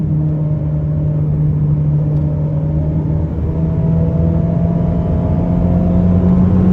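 A Ferrari SF90 Stradale pulling hard in fourth gear on the Portimão race track, a loud, steady in-cabin engine drone with a rising tone and heavy road rumble throughout, with no talk.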